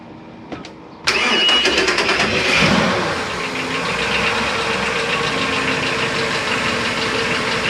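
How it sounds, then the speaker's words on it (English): The starboard Mercury MerCruiser 8.1L (496 ci) big block marine engine on a 2003 Sea Ray cranks briefly, catches with a loud roar, then settles into a steady, rumbling idle close by. "I'm going to go ahead and start the starboard engine first"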